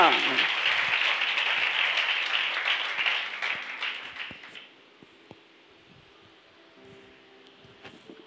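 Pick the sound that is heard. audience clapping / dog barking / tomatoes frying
audience clapping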